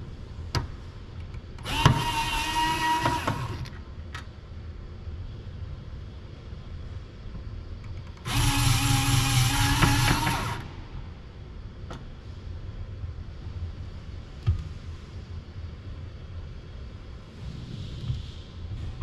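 A UR10e robot arm drives a powered screwdriver to loosen bolts, producing two loud, sustained whirring bursts of a couple of seconds each, separated by quieter mechanical ticks and a low background hum.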